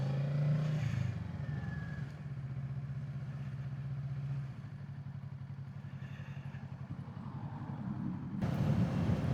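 A motorbike rides along country roads near a reservoir at twilight, its engine droning steadily and close with a brief dip in pitch midway, then swelling louder again at the end.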